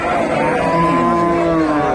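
Cattle, including Friesian cows and calves, moo in long, drawn-out lowing calls over steady outdoor crowd noise at a cattle market, fairly close and loud.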